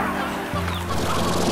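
Chickens in the video game Slime Rancher cluck in a short burst, fairly close and clear over a steady background hum, with no voices.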